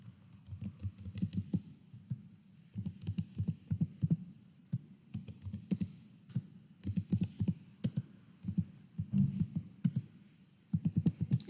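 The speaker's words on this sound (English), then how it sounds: "I'm just going to type like numbers. I am too lazy to just like type random letters also." Bursts of quick typing on a computer keyboard entering numbers, close and crisp, coming in short clusters of clicks separated by pauses, with no talking.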